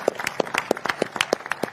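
Audience applause at a light-heavyweight boxing press conference for Artur Beterbiev vs Dmitry Bivol, a steady patter of sharp claps at moderate loudness, close and continuous with no talking over it.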